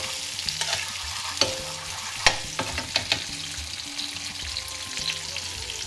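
Whole spices for a chicken jalfrezi masala paste toast in a hot pan, a light steady sizzle broken by scattered crackles and pops, close and alone.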